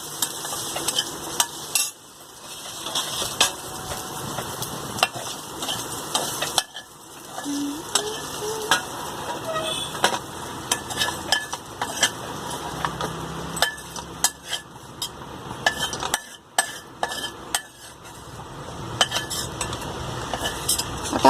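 Fried okra (bhindi) being lifted out of a pan with a metal utensil, giving repeated scraping, clinking and stirring sounds over a faint sizzle, close and fairly steady with brief pauses.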